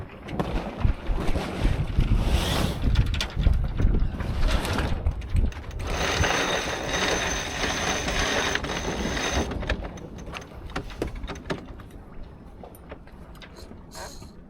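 A sailboat tacks while crew handle the head sail, with wind roaring across the microphone, water rushing along the hull and rattling, flapping sail and rigging noise, loud at first then easing off toward the end.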